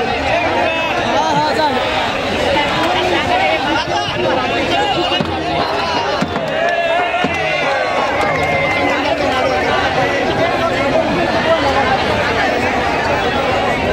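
Large crowd of protesting students massed along a road, a dense, continuous roar of many voices chattering and shouting close by, steady and loud throughout the whole stretch.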